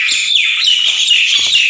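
A Nias hill myna calls in a steady, loud run of bright chirps and whistles, close by and with no voices.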